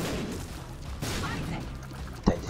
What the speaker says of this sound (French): il y a des explosions de partout